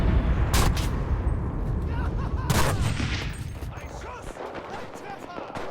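Gunfire in the World War II shooter Enlisted: dense bursts of rifle and machine-gun shots crackle near and far, with a few heavy booms around the first three seconds, then a steadier rattle that thins slightly toward the end.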